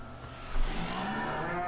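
A single cow moos from the Farming Simulator 15 video game, a low drawn-out bellow rising and holding steady, fairly clear over quiet background.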